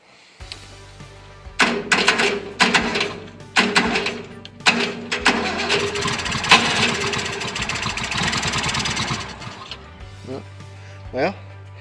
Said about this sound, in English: It's running for a little bit. It sounds good. The engine's real silent.